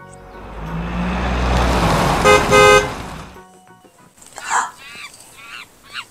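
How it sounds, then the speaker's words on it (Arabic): A car horn in a toddlers' learning cartoon gives a couple of short bright toots after a rumbling engine-like wash, then quieter voices follow. "السيارة قولوا بيب بيب بيب بيب."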